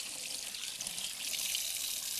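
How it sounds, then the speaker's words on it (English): Tap water running steadily into a kitchen sink for hand washing, a soft continuous hiss with slight splashing and no talking. "Let me wash my hands."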